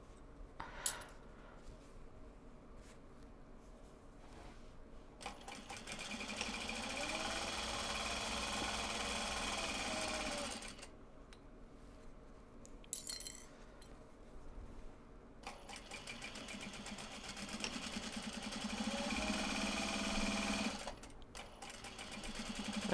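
A domestic sewing machine runs in long steady whirring stretches, pausing and restarting, with faint talk and household clatter in the background.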